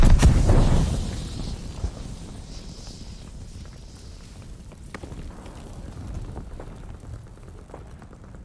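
A grenade goes off in the video game Call of Duty: Vanguard with a loud, close boom at the start that fades into a low rumble, followed by quieter scattered sounds and faint movement.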